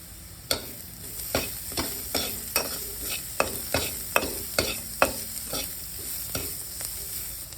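Onions fry in a pan for a mushroom masala curry, a soft steady sizzle punctuated by about a dozen sharp spoon scrapes and taps as they are stirred, close and fairly quiet.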